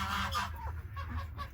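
Geese and ducks outdoors in a snowy yard give a couple of loud, nasal honks close by, with soft rustling around them.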